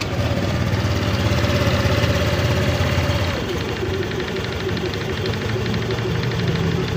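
Honda Click 125 v3 scooter idling with a noisy, rattling engine, its cover panels removed, giving a steady close-up mechanical clatter and drone that dips slightly halfway through and then holds constant.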